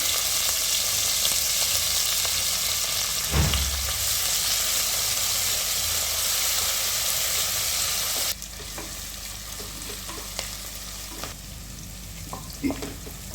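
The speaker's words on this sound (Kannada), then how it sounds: "ಒಂದು ದೊಡ್ಡ ಈರುಳ್ಳಿ ಹೆಚ್ಕೊಂಡಿದೆ, ಒಗ್ಗರಣೆಗೆ ಹಾಕ್ತಾ ಇದ್ದೀನಿ." Chopped onion fries in hot oil for a tempering, a dense steady sizzle that drops in loudness partway through, with a thump and occasional stirring clicks, close and without speech.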